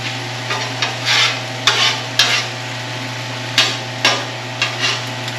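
Spam browning on a Blackstone griddle, a steady broadband sizzle with a low hum beneath and several sharp scraping clanks from a spatula at irregular intervals, close and fairly loud.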